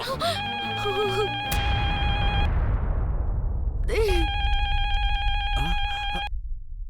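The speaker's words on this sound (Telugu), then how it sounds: "సునందమ్మ గారు ఫోన్ చేస్తున్నారు." A telephone rings in a Telugu TV drama scene, with two bursts of electronic ringing, the first at the start and the second after a pause. Voices and dramatic background sound run beneath the rings.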